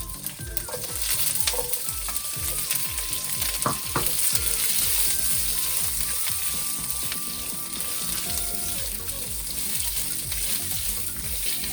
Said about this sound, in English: You don't want to leave it in the hot oil for too long because then the urad dal will burn.